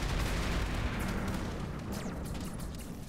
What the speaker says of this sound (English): Let's get the boomstick back on and fire it all.